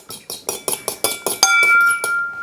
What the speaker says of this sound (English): Okay, I've got an egg in the big bowl. Going to give it a bit of a whisk.